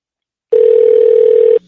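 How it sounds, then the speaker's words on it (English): A loud, steady telephone dial tone sounds alone for about a second during a call on a radio show, starting and stopping cleanly with silence on either side. "So then Howard, here's another phone call."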